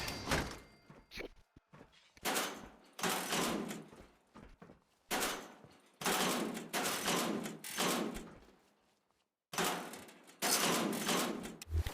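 Turret gunfire in Fallout 4, coming in loud bursts of rapid shots separated by short silences, close and harsh.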